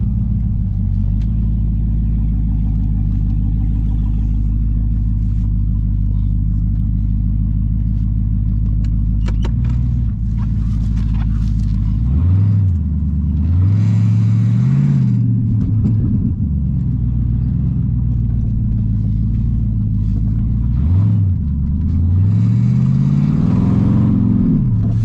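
5.7 Hemi car engine fitted with a Mopar cold air intake on a test drive, a loud continuous low rumble inside the car with several rising surges of acceleration and revving, no talking.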